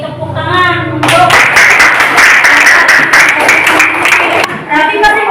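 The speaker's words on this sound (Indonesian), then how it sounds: "kita beri tepuk tangan untuk." A classroom audience applauds after a presentation on food additives, a burst of many hands clapping that starts abruptly after a voice and runs several seconds before talk resumes over the fading claps.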